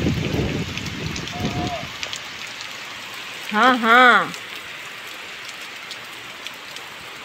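Steady downpour of heavy rain hisses continuously, with brief speech near the start and a short spoken exclamation midway over the constant wash.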